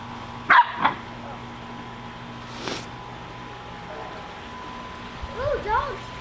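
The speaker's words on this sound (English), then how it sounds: "Dog speaking." A corgi gives a loud close bark, then a second softer one, followed later by higher yips and whimpering sounds against a quiet outdoor background.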